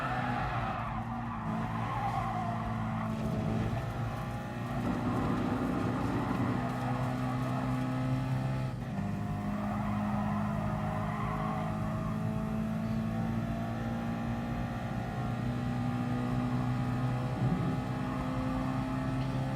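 Race car engine in Gran Turismo Sport droning steadily as it brakes into a bend, with a sustained tire-skid texture under a continuous, fairly loud engine tone that dips and recovers midway.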